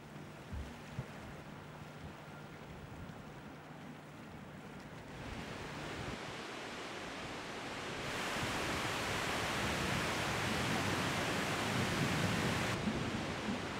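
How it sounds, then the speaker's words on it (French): Skradinski Buk, the great waterfall on the Krka river in Croatia, gives a steady broadband roar of falling water that swells louder midway and holds dense and continuous, with no voices. "Guidés par le grondement de l'eau, nous arrivons devant Skradinski Buk, la grande cascade."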